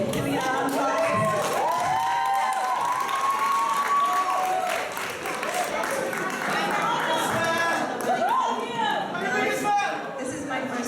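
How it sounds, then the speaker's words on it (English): An audience at a youth poetry slam, Austin Peace Academy 2016, claps and cheers as a performer comes to the stage. Loud shouts and whoops ride over continuous applause throughout. "Can we get a round of applause?"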